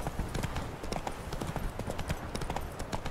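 A horse ridden in The Witcher 3 video game clip-clops in a quick, continuous patter of hoof beats with a steady, moderate loudness.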